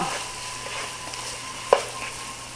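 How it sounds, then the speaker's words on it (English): Garlic drops into a hot pan with a soft, steady sizzle and one sharp clink of a utensil near the middle, heard alone at close range. "this is the garlic going in"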